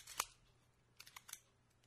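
Film advance mechanism of a Minolta 16 spy camera being worked by hand, a sharp close click followed after a pause by a quick series of small ratcheting clicks, faint and alone with no talk.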